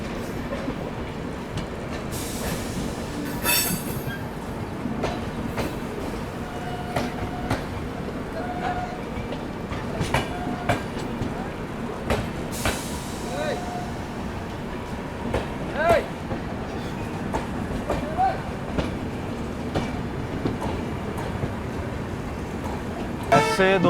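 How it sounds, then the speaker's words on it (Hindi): The Udaipur City–Patliputra Humsafar Express rolls past on an Indian railway, a steady rumble of wheels with repeated clickety-clack over rail joints and occasional squeals, heard from nearby beside the track, with someone speaking at moments. "कोई हमसफर आ रही है, अब देखते कौन। Udaipur Pataliputra, Udaipur city Pataliputra Humsafar express."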